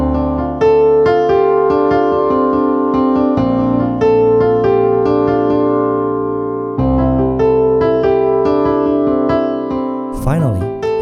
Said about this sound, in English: With hands together, the synthesizer section sounds like this.